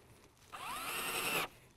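A power drill drives a screw into a kayak hull while a YakAttack GearTrac is mounted, a steady whirring burst of about a second, close and fairly quiet, with no talk over it.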